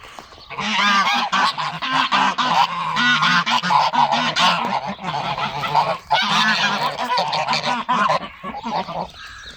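Several geese honk loudly and repeatedly, overlapping calls close by in a noisy, continuous chorus with brief pauses.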